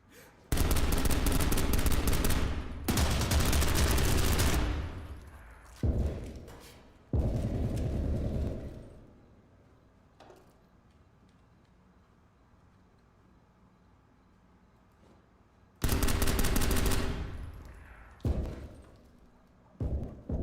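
MP5 submachine gun fire in a tactical shooter video game, with loud close bursts of automatic fire in several long volleys separated by quieter gaps, plus a few shorter thumps near the end.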